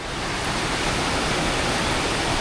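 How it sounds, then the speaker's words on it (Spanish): A mountain river in Colombia rushes steadily, a dense, even roar of flowing water filling the whole stretch with no breaks and no voices. "Fijaos cómo pasa aquí el río."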